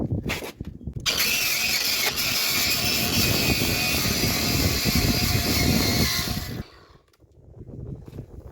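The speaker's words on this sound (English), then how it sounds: "I'm trying to get a couple more grinds at this and see how much I have." A cordless grinder with a wire wheel scours surface rust off a BMW E46 car subframe, a loud continuous whirring grind lasting about six seconds, then cutting out and spinning down before a brief quieter restart.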